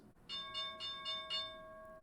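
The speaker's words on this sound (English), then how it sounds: "There's the bell." A stock market opening bell rings in a rapid run of five bright metallic strikes, its tone ringing on clearly afterward, loud and alone.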